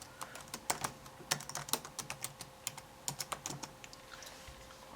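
Quiet, rapid keystrokes on a computer keyboard, irregular bursts of clicks tapping along for several seconds at close range, no voices.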